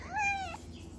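A cat gives one short, rising meow, fairly faint and alone against a quiet room background.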